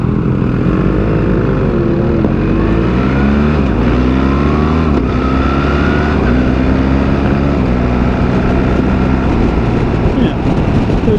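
A BMW R1300GS motorcycle runs steadily under riding, its loud engine drone rising and falling as it shifts up through the gears, with constant wind rush throughout.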